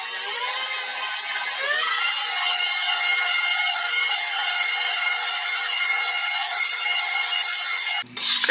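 Flour and baking powder dough mixed in a bowl, a continuous close rubbing, scraping sound with a steady background hum, ending in a brief sharp knock, no talking.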